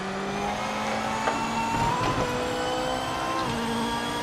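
Race car engine in the Project Motor Racing video game, a steady high-pitched drone held at speed with shifting engine tones and a brief gear change, running loud and continuous throughout.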